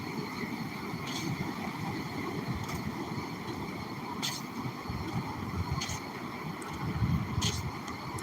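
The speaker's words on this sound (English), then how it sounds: "Look at these waves." Ocean waves wash steadily onto a beach in a continuous, broadband rush, with wind buffeting the microphone and a slight surge in the surf near the end.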